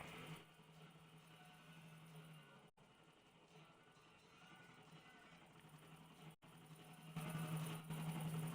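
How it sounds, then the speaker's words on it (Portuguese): Helicopter flying over Liberty City in GTA IV, a steady game rotor and engine drone running the whole way at low, even loudness, with a brief cut twice and a slightly louder stretch near the end. "primeira vez andando de helicóptero"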